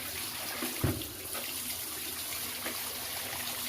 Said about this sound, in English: give it another rinse without any soap in it